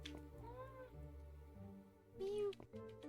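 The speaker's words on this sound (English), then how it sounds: "The cat is going ham." A cat meowing in the mystery game Nancy Drew: Mystery of the Seven Keys, two drawn-out meows about two seconds apart, fairly close, with a low voice murmuring underneath.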